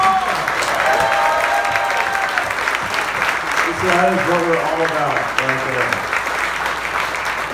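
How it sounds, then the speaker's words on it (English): Audience applause at a Smokies GT cystic fibrosis charity event, a steady wash of clapping throughout, with a voice speaking over it partway through. "got a round of applause for freaking Smokies."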